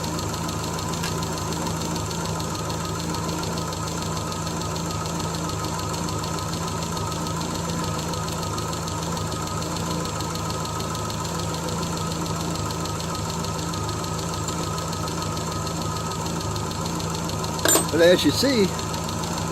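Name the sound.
1975 Triumph Spitfire 1500 engine running after timing set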